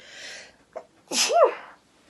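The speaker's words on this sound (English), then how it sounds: "Oh, I have to sneeze" A single close sneeze, with a quick sharp intake of breath followed by an explosive burst, heard alone in a quiet room.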